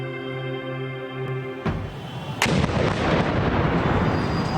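Sudden loud blast at an outdoor protest site, a sharp crack followed moments later by a second heavier boom and a sustained roar of noise and crowd commotion afterward.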